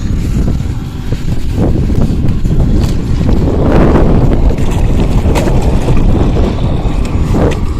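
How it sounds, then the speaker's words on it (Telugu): Strong wind buffets the microphone outdoors by a prawn farm pond, a loud, continuous roaring rumble that fills the whole stretch with no voices. "గాలి అయితే చాలా ఎక్కువ ఉందన్నమాట"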